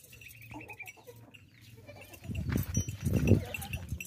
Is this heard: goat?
yes